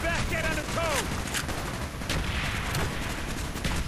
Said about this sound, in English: you get a China Lake launcher, which is a honestly horrible, horrible gun